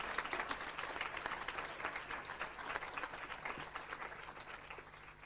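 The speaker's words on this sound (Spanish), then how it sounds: "Un aplauso a ella." An audience at the VII ATRAE awards gala applauds an honoree. Steady, dense clapping from many hands fills the hall throughout and eases off slightly toward the end.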